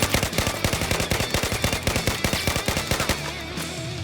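Battlefield 4 gameplay with an M416 rifle tap-firing: a long run of quick, sharp gunshots at an even, rapid rhythm, loud and close, ending abruptly after about three seconds.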